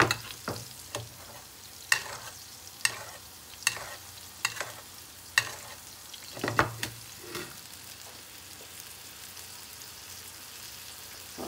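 Steak frying in a pan, a soft continuous sizzle broken by repeated sharp clicks and taps of stirring or turning, fairly quiet and close, with no voices.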